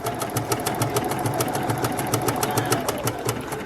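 A sewing machine runs steadily while stitching fabric pieces together for a Dresden plate table runner, with a fast, regular needle clatter close by and no talk.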